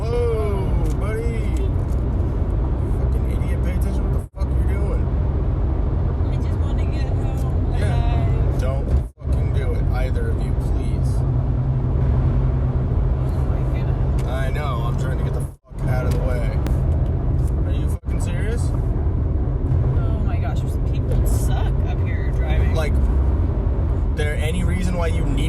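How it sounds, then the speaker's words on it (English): Steady road traffic in downtown driving, a continuous loud rumble of cars and heavier vehicles passing close, running throughout with only a few brief breaks, while someone talks over it. "There's actually a lot of traffic."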